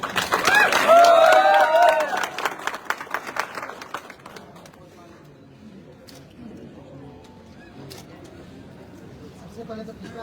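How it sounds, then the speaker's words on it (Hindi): Audience applause for a guest at a motivational gathering breaks out loud and close, a dense burst of clapping that fades after a few seconds into a quiet room with scattered sounds. "मैं चाहूंगा अविनाश कुमार गुप्ता जी के लिए एक जोरदार ताली"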